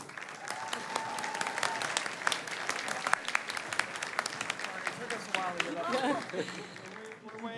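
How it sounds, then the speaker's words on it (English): An audience at a regional Emmy awards ceremony applauds the winners with sustained, moderately distant clapping. Voices and a few cheers rise near the end. "Let's have another round of applause for our winners,"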